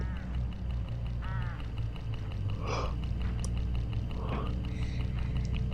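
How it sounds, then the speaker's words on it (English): Hooded crows along a road in the mystery game Hitchhiker give a few harsh, nasal caws at mid distance over a constant low drone of vehicle and ambient noise. "Look, hooded crows all along this road."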